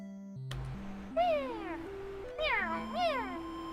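A streamer imitates a cat with a voice, making a run of rising and falling meows, four or five close-up calls in quick bursts over stepped electronic game music.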